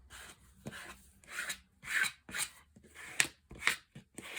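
Fabric being smoothed by hand onto glued backing to make book cloth, a soft repeated rubbing and light scraping in short strokes, close and quiet with no talk.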